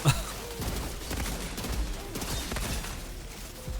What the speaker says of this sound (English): if we were to use my assault rifle